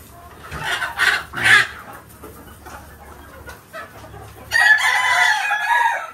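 Roosters crow loudly several times, one long crow near the end, with chickens clucking softly in between.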